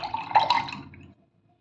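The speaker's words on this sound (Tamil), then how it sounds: "இது இன்னைக்கு சாதம் வடித்த வடிகஞ்சி இதை ஒரு மஞ்சட்டியில் ஊற்றிக்கலாம்" A short gurgling pour of starchy rice-cooking water splashes into a clay pot for about a second, then stops into silence.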